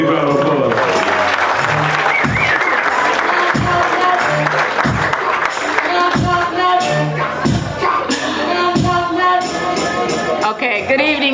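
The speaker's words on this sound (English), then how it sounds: "Let's give her a big round of applause." An audience applauds at an athletic hall of fame ceremony, steady clapping throughout under a reverberant hall with voices and shouts mixed in.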